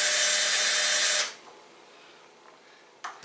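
A power drill drills out a pop rivet on a Softride bike rack, whining loud and steady for just over a second before stopping, followed by quiet room noise and a brief tap near the end.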